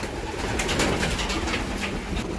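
Pigeons are let out of a freshly cleaned loft, with a close burst of wing flapping and clattering over soft cooing throughout a short outdoor moment.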